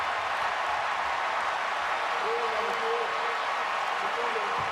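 Stadium crowd at Kinnick Stadium during a Wisconsin at Iowa college football game, a steady loud roar of thousands of fans reacting after a recovered fumble near the goal line, sustained and dense throughout.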